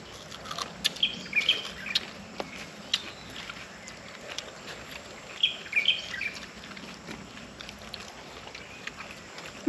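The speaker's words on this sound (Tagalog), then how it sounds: "May ibon po doon naglilimlim." Birds near a nest chirping in short bright bursts of tweets, faint and somewhat distant, set against a quiet outdoor background with scattered light taps.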